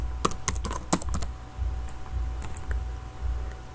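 Typing on a computer keyboard while entering student names into an Excel 2019 spreadsheet of term examination results, a close run of quick irregular key clicks, with a steady low hum underneath.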